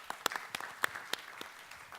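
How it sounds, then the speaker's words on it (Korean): Sparse applause greeting a forum moderator, a handful of separate, distinct claps scattered unevenly over two seconds, faint and somewhat distant. "큰 박수로 맞이해주세요."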